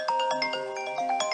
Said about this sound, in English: A cell phone ringing